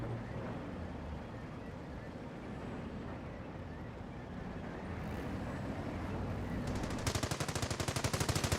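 Battle sounds from the World War II strategy game Company of Heroes, with rumbling low explosions and fire building steadily, ending in a rapid, loud burst of machine-gun-like shots.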